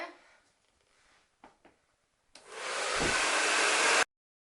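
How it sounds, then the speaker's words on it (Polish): A handheld hair dryer blows on hair with the head tipped down, starting abruptly after a few small knocks and running as a loud, steady whoosh for under two seconds before cutting off. "jak będziecie suszyły suszarką z głową w dół"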